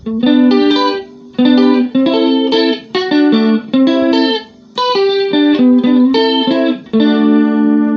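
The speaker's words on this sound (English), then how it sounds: "Some modulation is on. Which one? That is chorus." Clean electric guitar on an effects board playing highlife chords and short riffs with a shimmering, wavering chorus effect, reverb off, in separate phrases with brief gaps between them.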